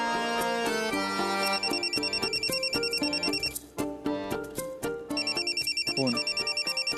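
A telephone plays a melodic electronic ringtone in a Marathi TV serial scene. The bright, repeating tune loops loudly several times with no one talking over it.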